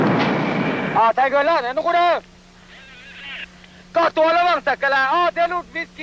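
A mortar or artillery blast erupts as a loud, broad burst in the opening second, then dies away as someone narrates over the rest of the wartime footage.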